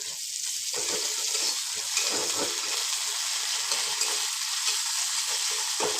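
Onion and parboiled cauliflower fry in a pan as spice paste goes in, giving a dense, continuous loud sizzle with occasional stirring scrapes, close and with no voices.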